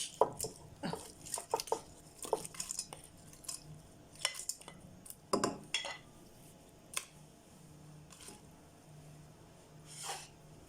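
Shrimp for soup go into a cooking pot in a kitchen, making scattered clinks of metal and cookware with soft wet squishes, quiet and close, in irregular bursts.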